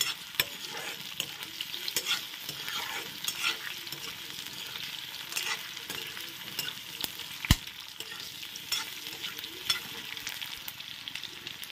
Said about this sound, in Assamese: এইখিনি ইয়াত মই ভাজি ৰাখিম পিঁয়াজখিনি অলপ ৰঙা হোৱালৈকে।